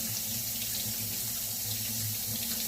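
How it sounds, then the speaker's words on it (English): Tap water runs steadily into a sink to rinse a glass jar, a continuous close splashing flow with faint gurgling fluctuations. "And I wash the whole jar. And then I rinse it."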